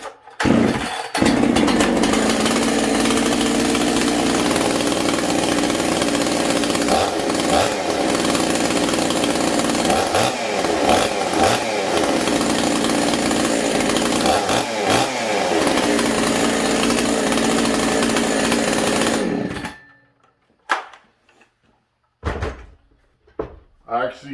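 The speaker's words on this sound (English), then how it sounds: "I'm actually curious how this saw runs, because I ported it and I never got to run it." Ported chainsaw, used for milling, running loud and close at a steady high idle with repeated revs for about twenty seconds, then shutting off into quiet with short knocks; people talk over it.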